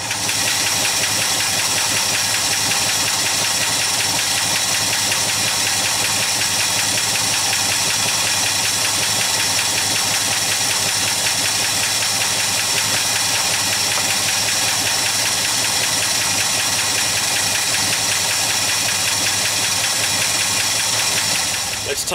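An old Mopar V8 in an Australian VE Valiant idles steadily and loudly up close, a continuous rough knocking rumble with no talk over it.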